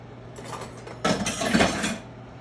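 Fork clattering against plates and dishes during a steak meal, a few light clinks followed by a louder burst of metallic clanking about a second long, close by.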